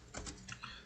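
A handful of quick keystrokes on a computer keyboard, close and fairly quiet, in a short burst with no talking.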